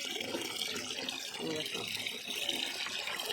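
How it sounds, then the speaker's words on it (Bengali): Leafy greens are washed under a running tap, a steady stream of water splashing at moderate distance, with a voice faintly present. "কলতলায় আমি শাক ধুতে নিয়ে গেছি"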